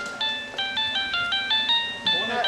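An electronic phone ringtone plays a repeating melodic beep pattern, loud and close, cycling several times without pause.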